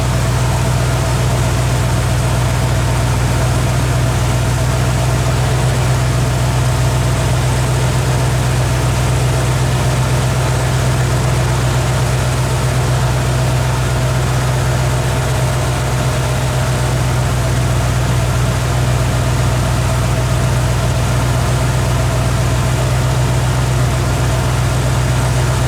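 A junkyard truck engine idles with its RPM set high, a loud, steady, low droning rumble with constant vibration that holds unchanged for the whole stretch.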